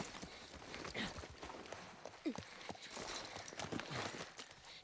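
Horse hooves clip-clopping in The Last of Us Part I video game, a loose run of soft irregular thuds over busy game ambience, with a brief whinny-like sound near the middle.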